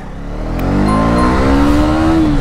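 A 2024 KTM Duke 250 motorcycle accelerating hard in first gear, its engine note climbing steadily in pitch as revs build, loud and close.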